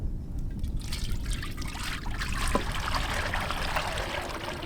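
Cooking oil pours steadily into a vessel in a village kitchen, making a continuous close trickle that lasts the whole stretch, with one small tap midway and no voices.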